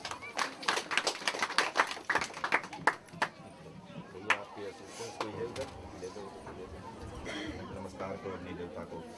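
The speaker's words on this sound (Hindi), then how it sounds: "ताली बजा करके इन्हें धन्यवाद दें" Guests at an Indian wedding ceremony clap in a brief burst of applause, close and uneven, which fades into the murmur of chatter and continued talk.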